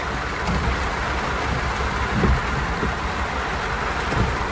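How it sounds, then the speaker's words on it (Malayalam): Steady rain hiss with a low rumble underneath, continuous and even throughout, no voices. "മഴ പെയ്തു."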